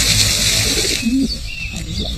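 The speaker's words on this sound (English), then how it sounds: "Their descendants include the famous London pigeon." London pigeon, a descendant of the rock dove, giving a soft low coo in a city setting amid steady outdoor background noise.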